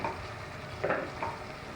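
Ginger-garlic paste frying in a pan, a low steady sizzle with a couple of brief bursts of louder spitting as the paste hits hot oil and is stirred, heard close and without talk.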